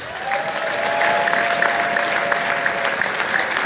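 A crowd at a gathering in Kigali bursts into steady applause. Many hands clap continuously at an even, fairly loud level throughout, with a faint sustained tone running beneath the clapping.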